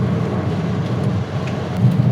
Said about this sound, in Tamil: ஒரு 5 நிமிஷம் எக்ஸ்ட்ரீம் ரெயின்ங்க, பயங்கர ரெயின்.